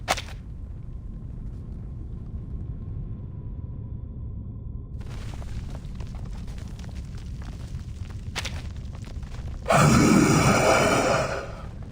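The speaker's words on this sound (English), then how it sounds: "That explosion came from the top of the tower!" In the video game Reverse: 1999, an explosion at the top of a tower lands as a single loud, sharp burst after a stretch of quiet ambience, then trails off over a couple of seconds.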